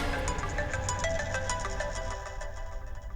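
A phone ringtone plays continuously, a bright repeating electronic melody over a steady low hum with no talking.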